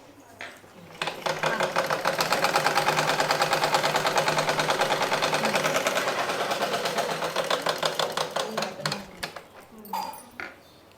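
A sewing machine stitches a churidar pant seam in one sustained rapid rattling run that slows into separate thumps at the end, with speech heard around it.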